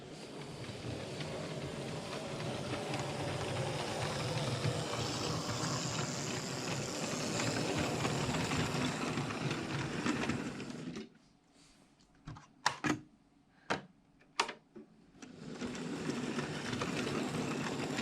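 Model railway locomotive running along the track gives a steady whirring, rattling hum for about eleven seconds, then stops, followed by a few sharp isolated clicks and the running noise starting again.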